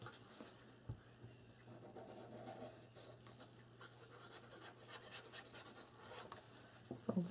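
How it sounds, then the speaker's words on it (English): A tool dragged along the folded paper edge of a chipboard trinket box, a soft, close rubbing and scraping in repeated strokes, quiet and continuous with an occasional louder scuff at the end. "So you lift it up and burnish that edge"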